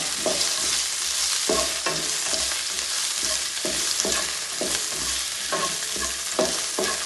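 Curry leaves hit hot oil with frying ginger, garlic and green chilli, setting off a loud steady sizzle close by, broken by a regular rhythm of spoon strokes stirring the pan, with no talking.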